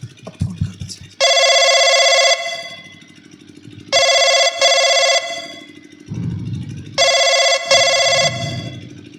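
A telephone rings in three long electronic bursts separated by pauses during a Hindi nautanki folk theatre performance, loud and close, with faint voices or low background noise between rings.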